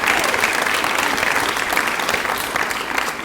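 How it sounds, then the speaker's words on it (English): Dense, steady applause from an audience honoring a guest at a hunger-relief family event, a sustained wash of many hands clapping close and loud throughout. "Let's give her another applause."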